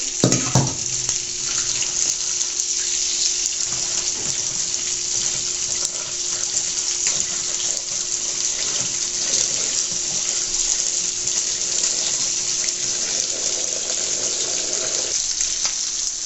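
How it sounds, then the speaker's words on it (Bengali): Tap water runs steadily over cut eggplant to soak it, a loud, continuous close gush that keeps going for the whole stretch, with no voices. "আমি পানি দিয়ে ভালো করে ভিজিয়ে রাখবো এখন,"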